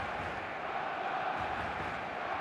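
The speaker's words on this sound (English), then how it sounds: "The stadium is full of noise and energy." Simulated stadium crowd in eFootball during a Barcelona vs Real Madrid El Clásico Super Cup final, a dense, steady roar of massed voices filling the air without pause for the whole stretch.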